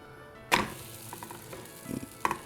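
Cauliflower-stuffed paratha, an Indian flatbread, lands on a hot pan with a sharp sizzle burst, then a steady low frying hiss with small crackles, and a second flare of sizzling near the end.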